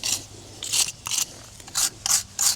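Cable lugs on an old Perkins turbo diesel engine are rubbed clean with short, brisk abrasive strokes, six or seven close rasping bursts in an irregular rhythm, separated by brief pauses.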